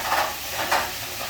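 Pork loin sizzles in a frying pan, a steady close-up crackle and hiss that swells briefly twice, with no voices.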